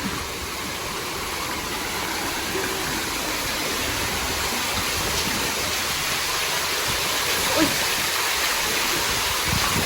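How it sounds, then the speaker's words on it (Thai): Steady, dense rushing of falling water fills the whole clip, a constant broadband roar with no break, close and fairly loud. "จะมีน้ำตกอยู่ด้านหน้า"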